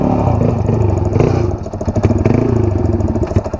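A Yamaha XTZ 125 trail motorcycle engine runs close by on a dirt trail, loud and chugging with a rapid pulsing beat, dipping briefly and then clattering back up to a rough idle.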